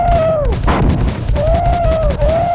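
A flamethrower fires in the shooter game Marathon 2 Durandal: a loud, close roaring burst is joined by short, rising electronic tones that repeat.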